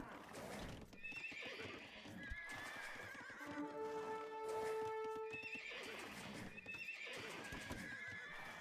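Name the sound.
scout cavalry horses neighing in the video game Age of Empires 2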